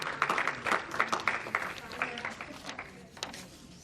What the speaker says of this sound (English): please have a round of applause for everybody